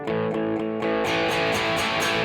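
Gretsch Malcolm Young model electric guitar strummed harder in repeated chord hits, the distortion breaking up more as the attack grows, loud and dense with no talking.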